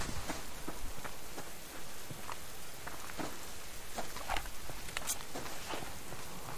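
Rain in the video game Subsistence, a dense soft patter of drops with scattered sharper taps, steady and fairly quiet throughout.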